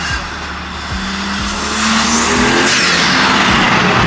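A BMW G80 M3 engine with aftermarket intakes roars and revs up loudly with a deep intake growl, building steadily in pitch over a few seconds, close by.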